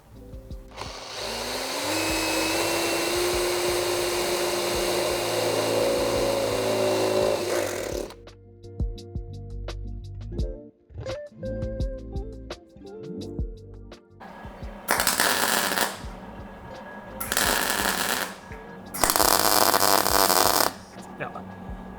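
Sheet metal is being welded on a BMW E28 under restoration: a long steady, loud machine drone gives way to quieter workshop clatter, then three short, harsh crackling bursts of welding.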